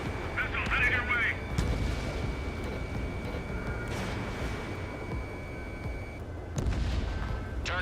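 Missile attack in Ace Combat 7: Skies Unknown, with rumbling booms and whooshing blasts over steady jet drone, plus a warning tone and beeping cockpit alerts.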